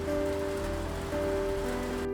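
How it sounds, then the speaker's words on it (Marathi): Heavy monsoon rain pours down and blows in indoors near a kitchen, a dense, steady hiss with a constant low hum running underneath throughout. "आणि पाऊस पूर्ण असा आत येतोय, हे बघा"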